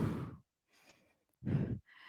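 Two heavy breaths pushed out during a core exercise class, each a close, breathy exhale about half a second long, separated by softer, fainter airy sounds.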